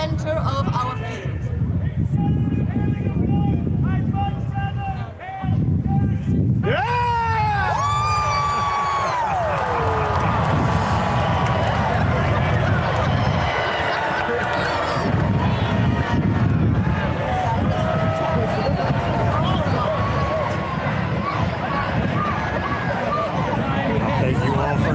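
A loud crowd at a Carolina Renaissance fair jousting match cheers, whoops and shouts throughout, with a rising burst of yells near the start and steady roaring babble afterward.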